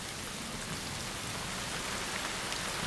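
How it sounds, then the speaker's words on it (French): Heavy rain pours down steadily, a dense, even hiss of drops striking surfaces all around, loud and unbroken with no voices or thunder. "Il pleut beaucoup."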